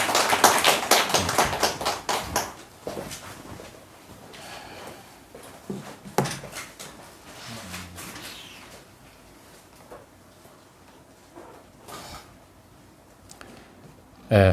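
A church congregation at a Korean Sunday service claps to welcome a missionary: a burst of dense clapping at the start that quickly dies away, followed by scattered knocks and shuffling noises and a brief voice.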